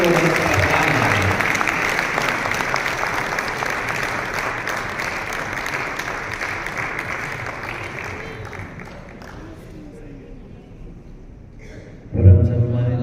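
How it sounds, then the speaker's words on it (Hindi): Sustained audience applause at a literary event, dense continuous clapping that fades out near the end before a brief loud thump. "तालियां रुकनी नहीं चाहिए जब तक कि वो प्रस्थान न करें।"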